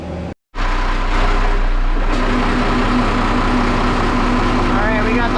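Port side engine of a boat with a suspected blown transmission starts up after a brief silence, then settles into a loud, steady idling rumble with a constant low hum close by.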